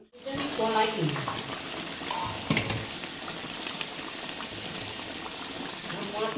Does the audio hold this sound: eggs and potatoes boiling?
yes